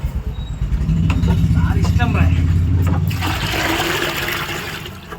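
A phone is dunked and washed in a bucket of water during a waterproof test of an Oppo F27 Pro 5G, giving steady sloshing and splashing close by while people talk over it.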